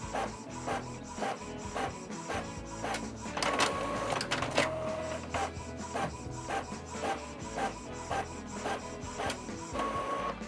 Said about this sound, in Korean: 한번 그럼 먼저 흑백 인쇄를 시험해 볼게요. 자, 프린트 누릅니다.